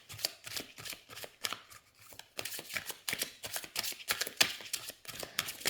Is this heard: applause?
no